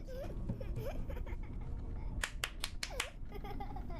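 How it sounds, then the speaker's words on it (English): Several sharp claps in a horror video game, a quick cluster of crisp, close hits near the middle, with a voice talking over low background sound. "Who's clapping?"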